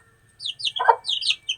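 Young chicks peep and cluck in quick bursts of high chirps that sit close to the microphone, with one lower cluck in the middle.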